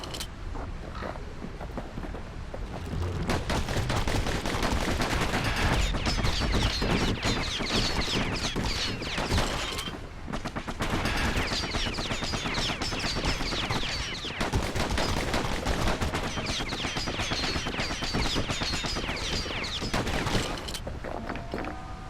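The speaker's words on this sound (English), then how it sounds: "Know what's better than having a slinger pistol in a fight? Having two." Dual slinger pistols from the game Bastion fire in a dense, continuous rapid volley of loud clattering shots for over twenty seconds, with a brief lull midway, backed by steady game ambience.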